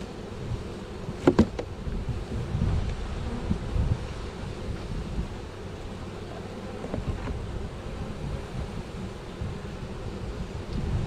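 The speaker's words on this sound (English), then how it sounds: "Can you hear them buzzing in there?" Honeybees buzz inside a hive during installation, a continuous low hum with wind noise and a few brief knocks, heard at moderate closeness with no talking.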